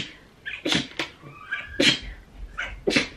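A single sharp sneeze amid several other short bursts, close and fairly loud, with brief quiet gaps in between.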